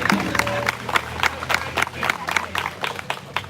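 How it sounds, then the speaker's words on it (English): A crowd at a peaceful protest applauds and cheers for a speaker, with steady, rapid clapping from many hands close by and scattered voices and whoops mixed in throughout. "So please, everybody, give a wonderful round of applause to Bryn."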